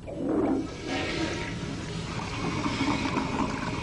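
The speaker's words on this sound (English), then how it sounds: "I'm ready for the flush." A household toilet in a 1995 family sitcom flushes with a loud rushing, gurgling swirl of water that starts strong and keeps draining steadily for several seconds, with no talking over it.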